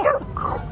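A beatboxer mimics a dog with his voice, giving two short barking yelps, one near and loud, then a lower, longer whine-like bark.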